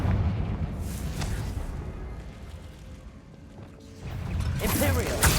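A Confringo fire spell erupts in Hogwarts Legacy, a loud fiery burst swelling near the end after a rumbling blast at the start, amid dense game effects.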